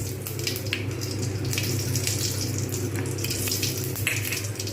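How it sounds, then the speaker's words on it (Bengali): Mustard seeds fry in white oil in a kadai as the tempering for a mango chutney, giving a steady close sizzle with scattered small pops and spits and no talking. "অলরেডি সর্ষেটা ভাজা শুরু হয়ে গেছে"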